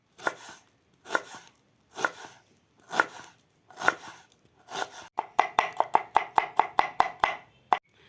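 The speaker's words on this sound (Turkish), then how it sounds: "Şimdi doğramaya başlayacağım." A knife chops onion and garlic on a cutting board, first in slow, evenly spaced strokes, then in a quick run of rapid, sharp cuts near the end.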